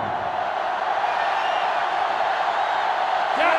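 Steady roar of a sellout stadium crowd in NCAA Football 2005 during a Florida Gators versus Tennessee Volunteers rivalry game, loud and continuous beneath a play-by-play commentator's voice.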